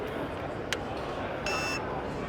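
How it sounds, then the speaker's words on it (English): A cordless electric pruner gives one short electronic beep of about a third of a second, partway through, over a steady noisy outdoor background. "you listen for a little beep"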